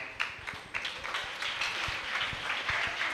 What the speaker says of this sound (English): A round of applause for Mr. Levinus